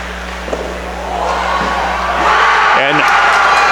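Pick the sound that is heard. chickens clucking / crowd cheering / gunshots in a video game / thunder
crowd cheering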